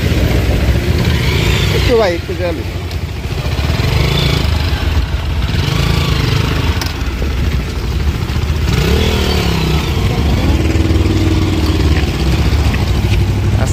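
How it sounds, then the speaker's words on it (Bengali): A motorcycle approaches and passes along a broken, rough road, its engine revving and rumbling under close, loud talk from people waiting nearby. "আর একটা মোটর সাইকেল আইতেছে"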